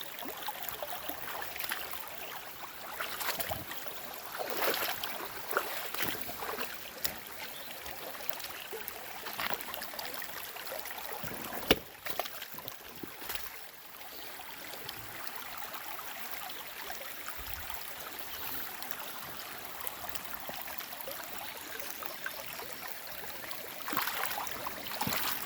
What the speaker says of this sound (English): this is a little bit excessive on the water flow